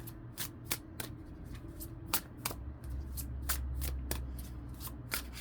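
Heavy weighted cards being shuffled by hand, a quiet run of sharp riffling snaps and flicks in irregular rhythm, close up with no talking.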